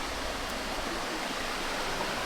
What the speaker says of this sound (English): kind of a runoff of the waterfall, and it's beautifully clean